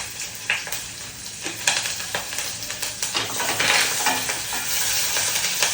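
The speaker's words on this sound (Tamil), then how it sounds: "வெங்காயம் தக்காளி நல்லா வதங்கட்டும்" Onion and tomato sautéing with curry leaves in a pan for a fish curry, a steady close sizzle broken by repeated scraping and clinking stir strokes.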